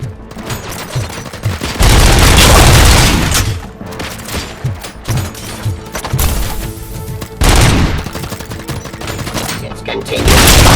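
Rapid bursts of automatic gunfire and heavy booms fill a Robocop: Rogue City firefight, loud and close, coming in dense volleys with short gaps between them.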